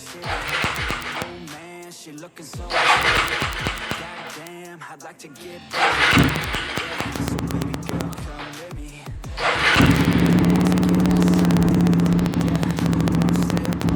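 A fuel-injected motorcycle engine cranks a few times, sputters, then catches and settles into a steady idling rumble, close by, with some clattering at first.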